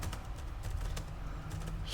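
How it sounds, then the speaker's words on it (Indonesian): A computer keyboard is typed on in quick, uneven bursts of light clicks and taps to enter a command. The clicking is fairly faint against a low background hum, with no talking. "Gue ngetik aja lah"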